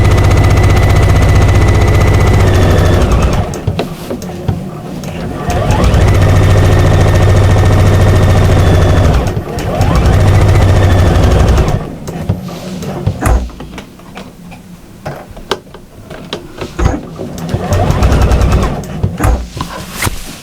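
A sewing machine stitches around a cushion piece in loud, steady bursts of several seconds each, separated by short pauses and handling noise.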